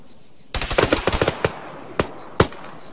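In the ArmA 3 video game at a power station, close automatic gunfire rattles in a rapid burst, followed by a few separate single shots.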